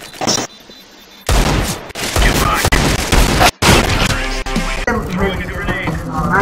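Gunshots in the CS:GO video game ring out as loud, sharp bursts of rifle fire broken by brief silent gaps, with a voice talking over parts of the fighting.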